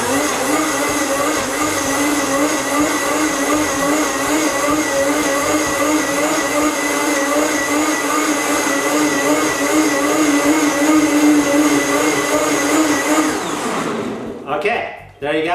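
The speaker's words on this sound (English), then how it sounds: "Actually, I'm going to put it on high and just liquefy these cruciferous vegetables in here." A blender on high speed liquefies collard greens and Swiss chard into a smoothie, a loud, steady motor whine with a grinding edge that runs continuously before cutting off abruptly near the end.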